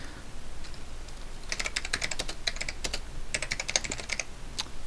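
Quick bursts of typing on a computer keyboard, crisp clicking keystrokes in uneven runs with short pauses between them, close and clear against a quiet background.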